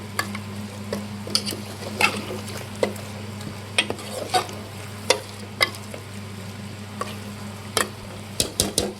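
Goat mutton sizzles and fries in a pan while a utensil stirs it, giving repeated sharp scraping clicks over a steady crackle close by, with no talk.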